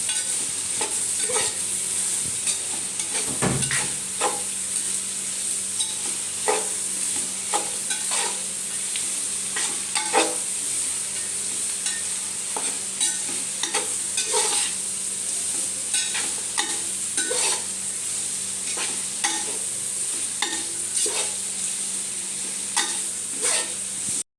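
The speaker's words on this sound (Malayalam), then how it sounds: "അപ്പോൾ സവാള നന്നായിട്ട് ഇതുപോലെ വഴറ്റി വന്നിട്ടുണ്ട്, നന്നായിട്ട് വഴറ്റി വരണം കേട്ടോ." Onions sautéing in a pan for Malabar chicken dum biryani: a continuous loud sizzle with frequent scraping and tapping of a spoon as the onions are stirred, close and steady throughout with no talk.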